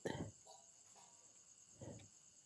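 Faint, continuous high cricket chirping in the background, with a couple of brief low sounds close by.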